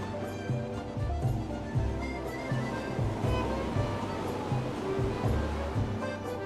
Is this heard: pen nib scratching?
no